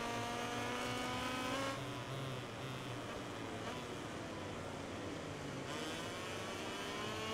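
A rival racer's motorcycle engine roars close behind in MotoGP 18, a sustained high-revving whine with shifting pitch that stays loud and steady throughout, mixed with the player's own bike.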